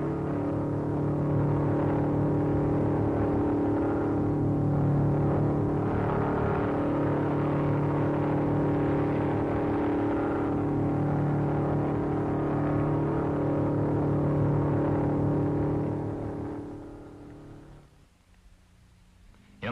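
A 1956 MG record car speeds across the Bonneville Salt Flats at close to 150 mph, its engine a steady, loud droning whine that holds for most of the clip, then fades away near the end.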